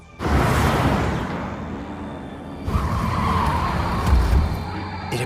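A race car slides sideways on a mountain pass course during a qualifier at Odawara Peak, tires squealing in a long continuous skid under a loud engine, with a second surge of screeching and revving midway through.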